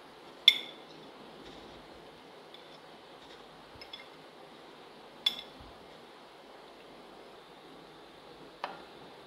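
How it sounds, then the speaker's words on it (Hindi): A spoon mixes raita of yogurt, cauliflower, onion, tomato, boiled potato, black pepper and salt in a bowl, giving three faint, widely spaced clinks against the rim over a quiet room hush. "अब हम इसके अंदर मिक्स करेंगे।"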